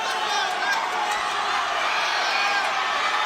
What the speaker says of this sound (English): Hear that hometown crowd cheering on Tinoco.